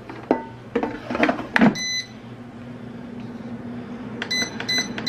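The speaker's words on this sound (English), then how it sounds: "our timer just went off" A kitchen cooking timer goes off while Hasselback chicken cooks, giving a short burst of electronic beeps and then a second run of repeated beeps. A few clattering knocks come first, over a low steady hum.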